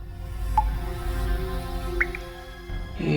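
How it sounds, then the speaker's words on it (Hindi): Sparse drops of water dripping inside a closed, empty flat, a few faint plinks over a steady low hum. "ये पानी टपकने की आवाज है।"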